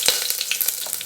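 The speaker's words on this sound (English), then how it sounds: "In a pressure cooker, I have added some mustard seeds, curry leaves, peppercorns and green chilies." Mustard seeds, curry leaves, peppercorns and green chilies crackle in hot oil in a pressure cooker, with close, bright sizzling and quick popping spits from the seeds.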